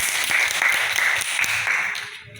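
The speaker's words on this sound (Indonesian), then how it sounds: "tepuk tangan dulu untuk" Brief applause from a classroom audience, a dense patter of many hands clapping at close range for a couple of seconds before fading out, with no talk over it.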